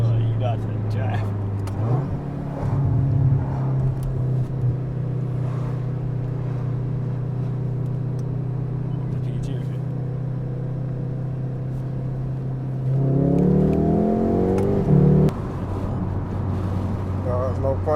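A MK7.5 Volkswagen Golf R drives steadily with a loud, even engine drone, then revs up and accelerates hard near the end, heard from inside the car.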